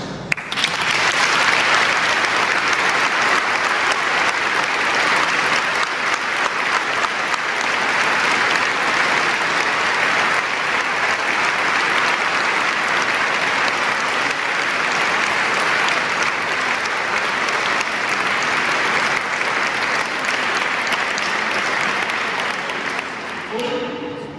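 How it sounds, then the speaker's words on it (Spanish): Warm, sustained applause from a choir concert audience marking a 35th anniversary, dense and steady throughout, recorded on a mobile phone in a hall. "Vamos a darles a todos ellos un caluroso aplauso."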